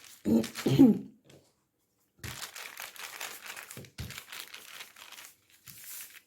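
A sheet of paper is crumpled and handled while shaping makrout dough filled with dates. There are sharp crinkling bursts at the start, then a longer stretch of close, intermittent rustling and crinkling.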